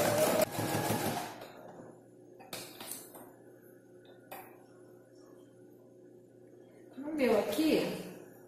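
A sewing machine backstitches through the thick layers of a multifunction wallet in short bursts, with clinks and handling knocks in between and a louder run near the end. A person talks at times.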